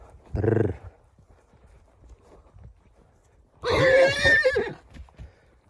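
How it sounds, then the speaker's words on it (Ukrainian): Village horses, a mare and a stallion, neigh twice: a short whinny near the start, then a louder, longer, shrill neigh later, with quiet rural background between. "Ось проста сільська кобилка і от такий жеребець."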